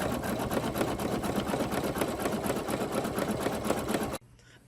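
An embroidery machine runs a tack down stitch while stitching an appliqué tee, a steady rapid mechanical chatter of needle strokes that continues evenly, then cuts off abruptly near the end, leaving quiet room tone.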